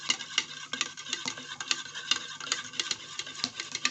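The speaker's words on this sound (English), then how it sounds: "So I'm stirring with my spatula." A spatula stirs organic base cream thickened with emulsifying wax, giving a quick run of light, wet clicks and scrapes, close by and fairly even in rhythm, with no voices.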